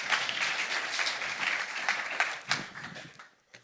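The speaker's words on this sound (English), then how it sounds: "join me, please, with a big applause for my colleague, Anju Sharma" Conference audience at a climate adaptation event in Nairobi applauding to welcome a speaker, a steady wash of many hands clapping that thins and fades out at the end.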